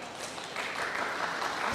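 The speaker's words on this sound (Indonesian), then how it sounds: "Tepuk tangan yang meriah" A church congregation at a live Quasimodogeniti worship service applauds in a dense, continuous patter of clapping that fills the whole moment at a steady level, with no distinct voices on top.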